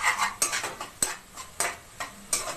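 Ginger-garlic paste frying in a pan while a utensil scrapes and stirs it, a soft sizzle under repeated metallic scrapes and knocks against the pan, close and moderately loud.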